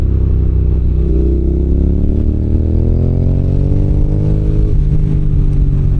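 A 2015 Honda NC750X twin-cylinder 750 motorcycle engine revs up loudly while riding, its pitch climbing steadily over several seconds before easing back, close and alone.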